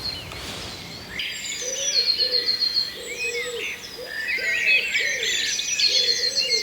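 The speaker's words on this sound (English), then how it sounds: "Many birds singing." Dawn chorus around 5:20 in the morning, with many birds singing at once: bright overlapping chirps and trills up high, repeated low cooing phrases below, near and far, steady and lively with no talk.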